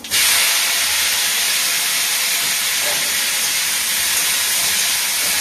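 Dry chillies and five-spice seeds tempering in hot oil for an okra curry, a loud, steady sizzle and hiss that starts abruptly and holds evenly throughout.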